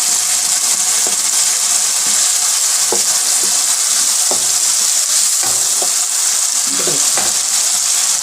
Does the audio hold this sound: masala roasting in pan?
yes